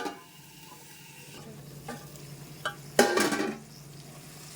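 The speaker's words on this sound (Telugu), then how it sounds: "టమాటాలు, ఎర్రగడ్డలు, అల్లం తెల్లగడ్డ పేస్టు, పచ్చిమిర్చి అన్నీ బాగా ఫ్రై అయినాయి." Tomatoes, onions, ginger garlic paste and green chillies frying in a pan for chicken curry, a soft sizzle with a few scrapes and a louder burst of stirring near the end, no talking.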